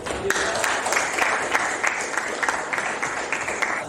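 A room of participants at an academic coaching session claps together for a few seconds, sharp overlapping hand claps forming a lively, fairly loud round of applause with a slightly uneven rhythm.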